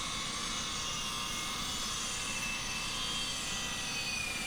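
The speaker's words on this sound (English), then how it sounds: "so we had to readjust it and cut the extra off there. The sawzall." Sawzall reciprocating saw cutting off the long end of a timber brace on an off-grid post-and-beam house build, a steady, harsh buzzing roar heard continuously at moderate distance.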